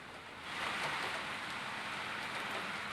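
Wind-driven rain falls in Ahmedabad's Nehru Nagar area as a steady, hissing wash of noise that swells after the first half second and holds evenly throughout.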